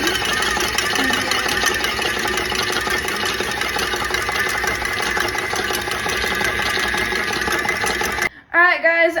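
An electric stand mixer whips egg whites until foamy with a steady mechanical whir and hum that runs unbroken for several seconds, then stops abruptly as a voice starts speaking.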